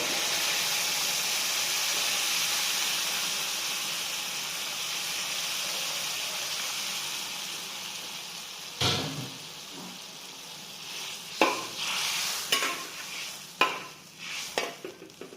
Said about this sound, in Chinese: 翻炒均匀之后呢，倒入我们准备好的这个这个萝卜水。